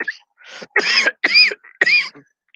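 Several harsh coughs in a row, close and loud, with short gaps between bursts, then a quieter throat sound at the end.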